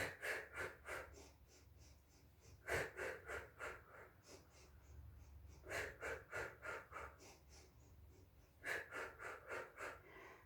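Slow, steady breathing during a yoga breathing exercise, with soft rhythmic puffs of exhaled air repeating in regular clusters, faint and close.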